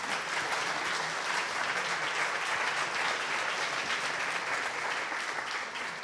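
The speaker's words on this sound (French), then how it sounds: "Oui, vous pouvez applaudir." A seated audience at a French real estate round-table conference claps continuously and steadily, a dense, even wash of applause throughout with no voices on top.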